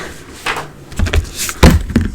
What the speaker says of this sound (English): Oops, I'm knocking everything over.